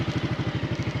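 A Macbor Montana XR5 motorcycle idles close by with a steady, even thumping pulse of rapid low beats and light mechanical clatter layered over it.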